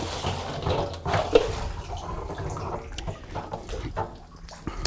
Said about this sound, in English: So we're just going to wash up these balls here a little bit.